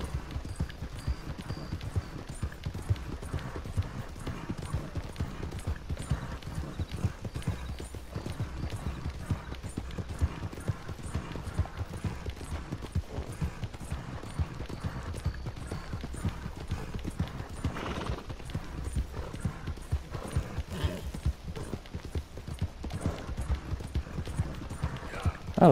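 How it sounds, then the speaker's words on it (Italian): Horse hooves clip-clop steadily while riding in the video game Red Dead Redemption 2, a long, even rhythmic stream of hoofbeats with faint background game sounds. "Allora, ci stiamo facendo i chilometri a cavallo."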